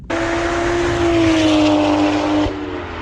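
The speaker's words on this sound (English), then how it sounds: "it's got this new exotic high-pitched tone, but when you're up in the rev range, it sounds like a V10" A sharp, high-pitched modified exhaust wail from an older BMW holds at high revs for about two seconds, loud and close, V10-like, then cuts off abruptly to a lower idle.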